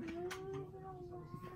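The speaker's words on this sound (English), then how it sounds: "She just meowed." A cat gives a soft, drawn-out meow close by, steady and faint against a quiet indoor background.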